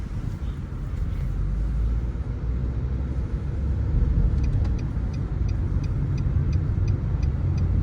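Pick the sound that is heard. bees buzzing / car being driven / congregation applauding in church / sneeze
car being driven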